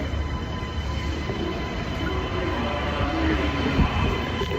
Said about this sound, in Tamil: எக்ஸ்கலேட்டரில் பாருங்க ஜப்பான் மெட்ரோ ட்ரெயின் எப்படி இருக்குன்னு.